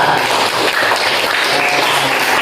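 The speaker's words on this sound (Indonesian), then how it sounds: "Berikan tepuk tangan untuk kelompok 3." A primary school classroom applauds a group of students, giving a loud, dense round of many hands clapping steadily for a couple of seconds, close by and without speech.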